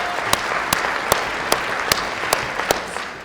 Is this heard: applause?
yes